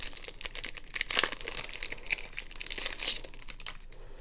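Crinkling and tearing of plastic and cardboard packaging as an Amazon Fire TV Stick remote is unwrapped, a close, irregular run of crackles and rips that dies away at the end.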